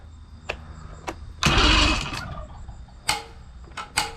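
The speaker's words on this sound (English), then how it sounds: "I'm just gonna see if it cranks over before we let it run" A boat's outboard engine cranks over with a loud burst of starter grinding and sputter, surrounded by sharp clicks and knocks in an otherwise quiet space.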